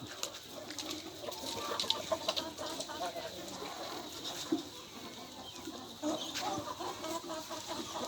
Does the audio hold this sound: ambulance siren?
no